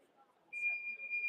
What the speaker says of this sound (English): It's actually a car alarm, Jules, I think.